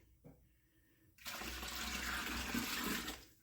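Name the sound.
water rinsing out a bowl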